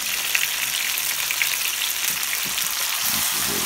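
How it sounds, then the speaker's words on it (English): Capers, garlic and olives sauté in a pan for pasta puttanesca, giving a steady, close, continuous sizzle with no voices. "We're just going to saute this for about, say, 3 or 4 minutes."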